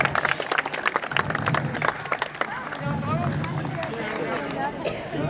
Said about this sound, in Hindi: चलो जोरदार ताली बजाओ भाई सब लोग